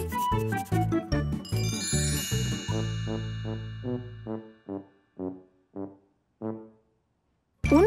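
A small blue bell ornament on a Christmas tree jingles in a children's cartoon, first a bright busy run of tinkling chimes over music, then several separate clear rings spaced apart, ending with a short burst.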